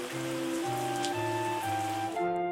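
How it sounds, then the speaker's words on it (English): Steady rain in the wine-making game Terroir, a soft, even hiss that runs unbroken through the whole stretch beneath sustained tonal game music. "Sounds like rain though, which should cause these to leaf up a little bit."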